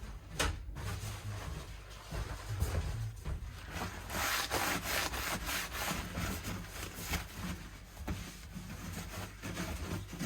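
A cloth rubs dust and grime off a Martin Road series acoustic guitar, making continuous scrubbing and rubbing strokes close up, with occasional light knocks and no talking.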